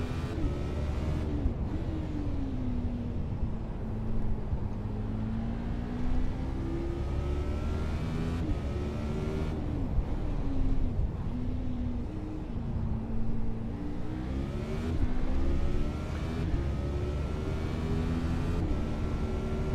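Race car engine in a racing video game at Circuit of the Americas, held on throttle with rising and falling revs through corners and straights, a steady loud drone throughout with no talk over it.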